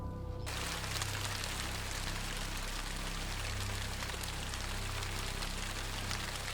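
Steady rain falling near salt-making beds, a dense even hiss of drops pattering on surfaces that starts abruptly and continues unbroken at a soft, constant level.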